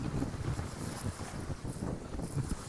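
A sailboat races alone across the Pacific over 3.5 to 4 foot ocean waves, with constant rushing wind buffeting the microphone and water churning steadily beneath the hull.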